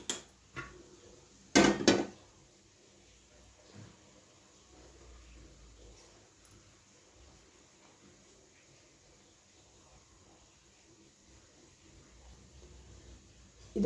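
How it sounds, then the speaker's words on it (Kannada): A metal frying pan is set on a kitchen stove to make a gravy, giving a sharp clank or two near the start before the room falls to a quiet hum. "ಒಲೆ ಮೇಲೆ ಬಾಣಲೆ ಇಡಿ."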